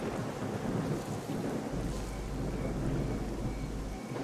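Rain and thunder in the video game S.T.A.L.K.E.R.: Call of Pripyat, a dense steady downpour hiss with a deep rolling thunder rumble swelling underneath through most of the stretch, no voices.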